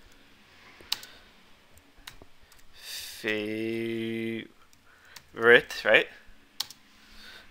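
Scattered keyboard taps and clicks from a computer keyboard during Java programming, sparse and close, broken up by someone talking.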